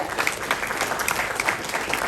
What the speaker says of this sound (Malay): Bagi tepukan kat apply saya